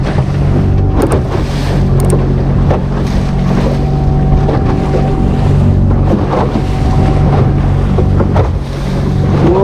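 A motorboat drones loudly as it crosses big ocean waves, engine rumble mixed with wind buffeting and water slapping against the hull, close and continuous throughout.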